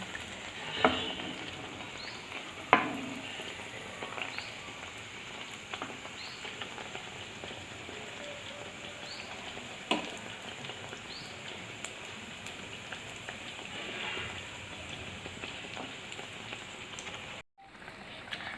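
Malpua batter frying in hot oil gives a steady, soft sizzle and crackle throughout, with a few louder pops and spatters near the start, heard alone without speech.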